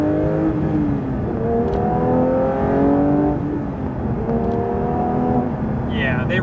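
Engine of a 2022 Porsche 911 GT3 (992) while driving, a strong cabin-heard drone whose harmonics climb and fall through shifts, loud and continuous, with a brief high chirp at the very end.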